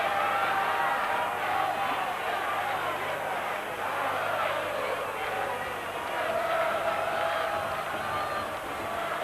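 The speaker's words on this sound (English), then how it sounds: "Now we'll hear the chant from the Argentine crowd." Argentine fans chant at a 1987 rugby test match against Australia, a steady roar of massed voices from the stands that holds throughout, continuous and dense with a faint wavering tune.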